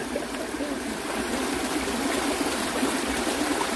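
Something is rubbed against a stone and rinsed in water outdoors, giving a continuous close rushing and trickling wash of water with no speech.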